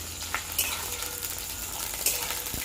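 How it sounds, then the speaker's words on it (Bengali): Steady crackling sizzle of green banana frying in hot oil, with a few faint clinks of a utensil against the pan. "এরপর আমি কাঁচকলাটা ভাজবো"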